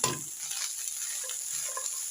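Minced meat keema frying in ghee as peas are added, giving a steady close sizzle with some stirring scrapes and no voices.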